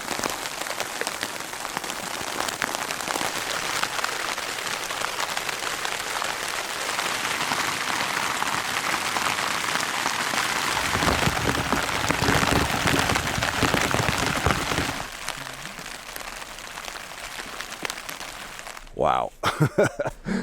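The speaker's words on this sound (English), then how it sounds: "watching the intermittent ice pellets and rain and everything else going on." Steady rain mixed with intermittent ice pellets patters on a backpacking tent at a campground in Glacier National Park in September, a dense continuous hiss that eases toward the end, with brief rustling close by.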